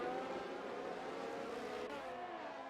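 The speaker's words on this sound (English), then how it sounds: "Squib in the pit lane." Formula 1 car from the F1 23 game pulling into the pit lane at the Saudi circuit, a steady loud engine drone with some pitch shifting, filling the whole stretch.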